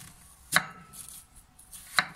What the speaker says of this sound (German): Beide Zwiebeln haben wir jetzt entsprechend eingeschnitten.